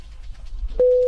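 A single steady telephone call tone sounds suddenly near the end, holding a constant pitch after a short stretch of low rumble and quiet background noise.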